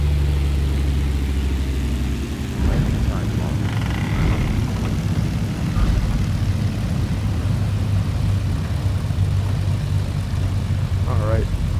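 A BN-2 Islander twin-engine propeller aircraft touching down in a flight simulator at South Caicos, its engine hum steady and close throughout with thumps of contact on the runway, while someone talks over it.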